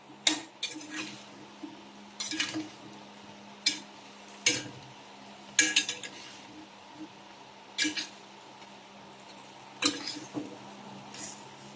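Ginataan with a pork cube is stirred in a pot, a spoon scraping and clinking against the metal in a steady series of sharp knocks over a low simmering hum.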